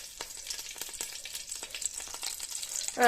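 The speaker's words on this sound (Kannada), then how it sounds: "ಈಗ ಇದು ಚೆನ್ನಾಗಿ ಫ್ರೈ ಆಗಿದೆ" Duck meat frying in a pan crackles and sizzles in quick, irregular pops throughout, with a sudden louder stir or scrape at the very end and no voices.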